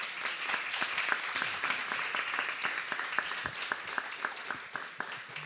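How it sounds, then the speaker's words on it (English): A reunion audience applauds its panelists with sustained, moderately distant clapping, individual sharp claps standing out toward the end as it thins. "So why don't we give a round of applause to our panelists"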